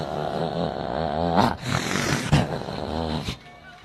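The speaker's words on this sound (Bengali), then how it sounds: "তখন এই কথা করার পরে পুরুষ কুকুর যায় আর খালি কয়" A male dog growls and whines in low, rumbling, throaty bursts mixed with snorting, nasal whimpers, several uneven pulses close to the microphone with brief pauses between.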